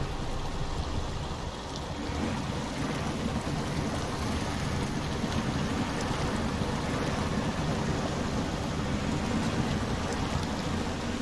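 Heavy truck churning through deep river water in SnowRunner, a steady rushing, sloshing wash of water with a low engine rumble underneath, continuous and fairly loud throughout.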